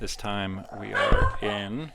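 A dog barks a few times close by, short sharp yips mixed with a person speaking.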